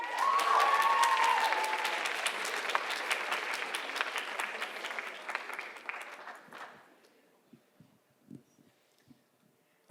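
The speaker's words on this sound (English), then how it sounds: "Could everyone please give a big round of applause for Mr." An audience at a school writers expo applauds teacher Rick Brenner: a full, even round of clapping for about six seconds that quickly dies away, leaving scattered small knocks and shuffles.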